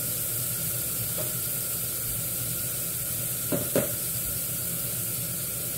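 Meat searing in a hot pan, a continuous close hiss of sizzling fat with a few brief clicks of a utensil partway through.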